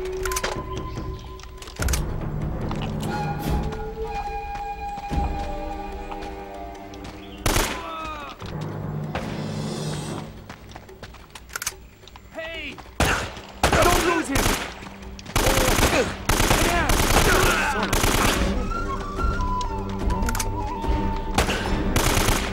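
Gunfire in the video game Uncharted: Drake's Fortune, with rapid bursts and single shots, shotgun blasts and thuds among background game music, interrupted by a player talking.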